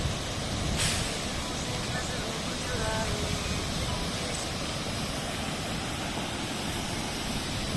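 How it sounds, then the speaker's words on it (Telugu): Waterfall at Bhairavakona in Prakasam District at night, a constant broad roar of falling water close at hand, steady from start to finish, with faint voices barely audible beneath it. "ఇప్పుడు మనం రీచ్ అయ్యాము వాటర్ ఫాల్ దగ్గరికి"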